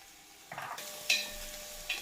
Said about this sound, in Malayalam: എണ്ണ ചൂടായിട്ടുണ്ട് നമുക്ക് ചെറിയ ഉള്ളി ഇട്ട് കൊടുക്കാം